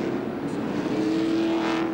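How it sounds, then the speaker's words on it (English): NASCAR Winston Cup stock cars run down pit lane during the 2001 Cracker Barrel Old Country Store 500, a steady droning engine note that rises slightly in pitch, with no talk over it. "No racing in the pits, boys."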